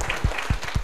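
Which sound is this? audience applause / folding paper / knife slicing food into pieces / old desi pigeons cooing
audience applause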